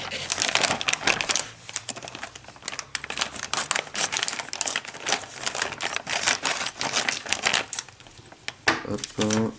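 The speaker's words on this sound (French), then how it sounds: "il faut, bien entendu, déballer les pièces" Plastic packaging crinkles and rustles as parts of a 1/8-scale Eaglemoss Ecto-1 model kit are unpacked, with close, dense crackling and tearing throughout and someone talking in French over it.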